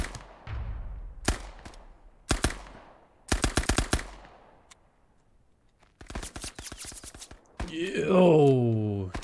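Rapid bursts of Sten submachine gun fire in the video game Resolve, several short volleys separated by pauses, ending with a whooshing electronic effect.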